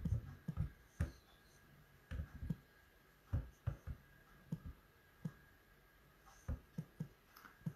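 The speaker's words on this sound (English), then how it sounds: "Let me just type the topic in" Quiet, irregular clicks and taps of someone typing on a keyboard, clustered in short bursts with pauses between, close by in a quiet room.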